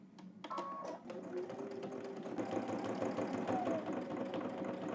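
Domestic sewing machine understitching a garment collar close to the seam, running in a fast steady mechanical whir with clicking bursts at the start, fairly quiet and alone.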